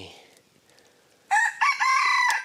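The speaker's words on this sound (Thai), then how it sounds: "โอ้ ตอนนี้ไก่ผมขันละ ขันตอนจะมืด ขันเข้านอน" A rooster crows at dusk at a forest campsite, one loud, clear call standing alone after a quiet stretch.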